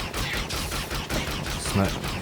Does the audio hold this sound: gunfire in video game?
yes